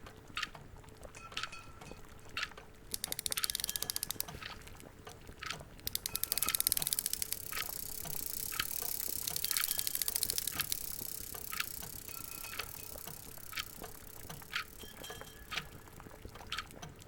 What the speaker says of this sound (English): Now to wind them up a bit and set them going.